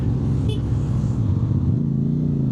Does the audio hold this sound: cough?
no